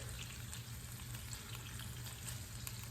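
A burger patty, just flipped, sizzles steadily in a hot frying pan, a close, even crackle and hiss that holds without pause.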